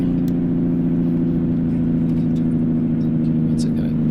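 A Cummins KT diesel truck engine in American Truck Simulator hauls a heavy load and slows down, a loud, steady low droning hum with a faint rhythmic pulse throughout.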